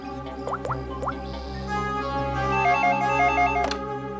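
A telephone rings in a room with a repeating electronic trill, several bursts in a row over a low steady hum and faint background sounds, with no one speaking.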